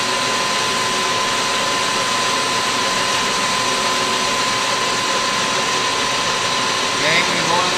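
A screwdriver is being machined, with a loud, steady mechanical whine and broadband roar running unbroken throughout, close and constant.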